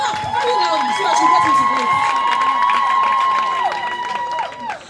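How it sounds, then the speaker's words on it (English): Students at a fashion design college show cheer, shout and clap loudly together, a sustained crowd roar with a held high-pitched whistle-like tone riding over it before tapering off at the end. "Please, let's give her a round of applause."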